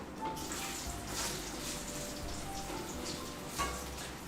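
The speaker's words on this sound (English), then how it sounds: "we're frying these" Cassava fries sizzle in oil at a lower temperature, a dense, continuous crackling hiss close by with scattered soft pops, steady throughout and free of talk.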